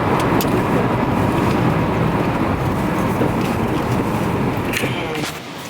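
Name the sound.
car driving on the road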